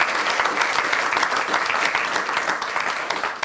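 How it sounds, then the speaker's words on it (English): A debate audience applauds the timekeeper with steady, dense clapping that fills the room at an even level throughout, with no voices on top. "So a big round of applause."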